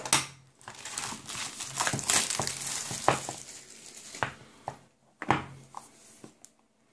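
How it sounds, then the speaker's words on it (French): Unboxing a Joyetech eCom e-cigarette box up close: crinkling packaging, rustling cardboard and sharp handling clicks in irregular bursts, with no speech. "donc je vais vous faire le déballage de la Joyetech ICOM. Donc en direct, on va ouvrir ça."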